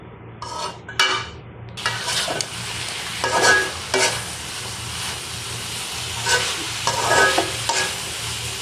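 Shrimp and potatoes stir-fry in a pan with onion and garlic, making a loud continuous sizzle broken by repeated scraping bursts of the spatula against the pan.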